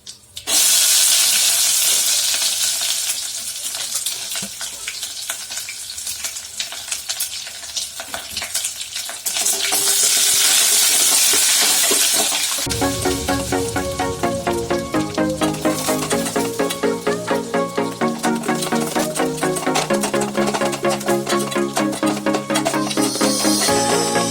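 Chopped big onions frying in oil in a pan for mint rice, a loud continuous sizzle and hiss close by, later joined by repeated rhythmic scraping and stirring of a spoon against the pan.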